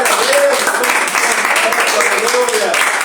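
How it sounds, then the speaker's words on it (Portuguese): A church congregation claps loudly and steadily in praise, a thick, sustained roar of hands under a voice speaking throughout. "Aplauda o nome do Senhor."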